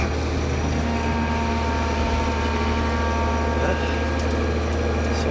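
A Case IH combine harvester's engine running steadily while the machine backs up, a loud constant low rumble and drone close by with no voices.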